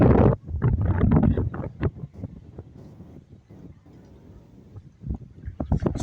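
Strong wind at a hilltop view deck at KM90 in Infanta, Quezon, gusting and buffeting the microphone as a loud, rough rumble that rises, eases and surges again.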